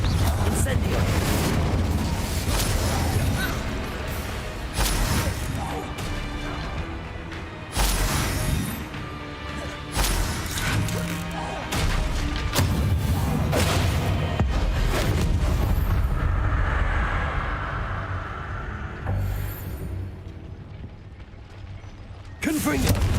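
Confringo fire-blast spell in Hogwarts Legacy, loud booming explosions with crackling and mechanical clatter repeating through a busy combat scene, under intermittent speech.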